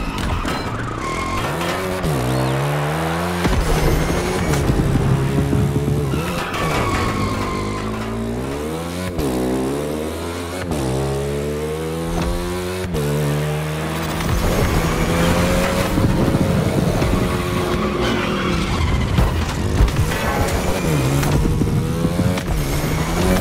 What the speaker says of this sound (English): they're chasing you with their trucks, so you gotta move fast and use the size of that bike to your advantage